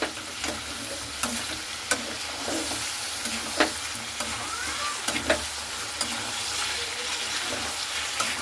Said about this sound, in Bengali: জলটা দিয়ে কিন্তু একটু ভালো করে নাড়াচাড়া করে নেব